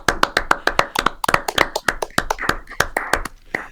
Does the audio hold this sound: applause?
yes